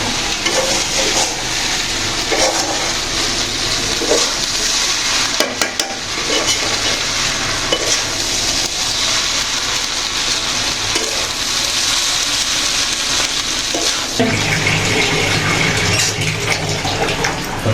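Chow mein stir-frying in a pan, a steady loud sizzle with scraping stirs running throughout, no talking.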